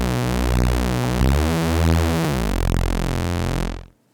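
A thick, buzzy detuned saw-wave synth tone with a wide shimmer, sustained for a few seconds and shifting pitch before it cuts off.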